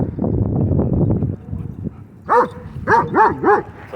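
Several small dogs at a dog park bark and yip, with a Dutch Shepherd and a German Shorthaired Pointer nearby. A rough stretch of mixed noise and yapping gives way to four sharp, close barks in quick succession.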